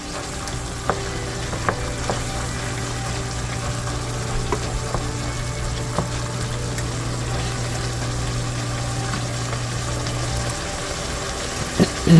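Browned sausage sizzling steadily in a frying pan, a continuous close crackle with a low hum underneath and a few soft clicks scattered through.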